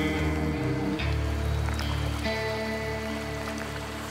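Steady rain falling on an Ecuadorian jungle river, a constant dense patter on surfaces, close and even throughout, with a few faint knocks and no talking.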